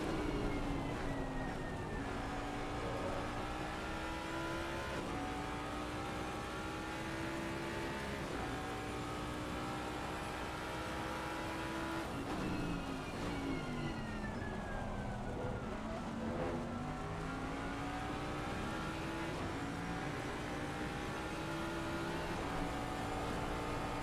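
Racing cars, including a BMW, in a sim racing game at a Belgian round; a sustained, fairly quiet engine drone rises and falls in pitch through shifts and braking.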